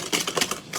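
A whisk creaming sugar and butter in a bowl for a semolina cake, giving a quick run of close, light, rhythmic clicking taps.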